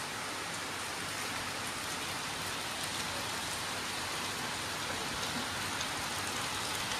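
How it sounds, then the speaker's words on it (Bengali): Heavy rain pours down outside in a dense, even hiss that holds steady throughout, with no voices. "এত জোরে বৃষ্টি পড়ছে যে আমি যেতে পারছি না।"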